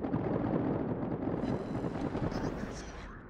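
Aircraft strafe a frigate in the World of Warships naval video game, making a dense, continuous rattle of rapid gunfire and blasts that stays loud for a few seconds before fading slightly.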